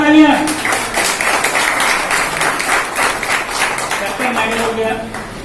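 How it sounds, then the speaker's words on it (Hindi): Audience at an award ceremony gives loud, sustained clapping for several seconds, while a voice speaks over the start and end of the applause. "जोरदार तालियां।"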